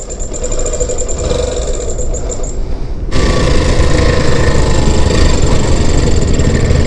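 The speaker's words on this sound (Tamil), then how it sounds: "இந்த பாருங்க, பைக் ரொம்ப ஒரு மாதிரி சவுண்ட் வருது" A motorcycle engine making an odd sound runs steadily with a rough, uneven mechanical rattle, growing louder and fuller partway through as it revs up close by.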